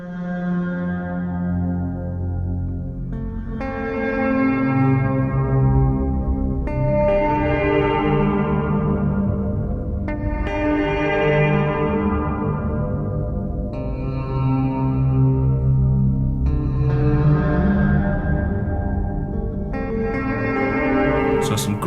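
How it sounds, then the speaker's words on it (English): Slow droning shimmer reverb from a TipTop Audio Z DSP module swells in long sustained washes, tones blooming and overlapping every few seconds in a dense, echoing ambient bed. "Let's try that slow drone-in reverb on the second algorithm."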